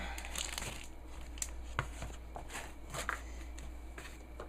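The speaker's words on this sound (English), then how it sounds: "I have this ream of paper I bought." A ream of paper is handled and set down on top of a taped-together shoe repair, giving crinkly rustling and papery crackles with a few soft taps, close and fairly quiet.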